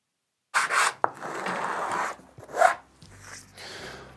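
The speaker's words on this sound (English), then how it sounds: "Then the same process is repeated of filing things down and sanding it" Hand filing and sanding of wood to smooth it, heard as several rasping, rubbing strokes in bursts of varying length, close and fairly clear, with brief pauses and a sharp knock between them.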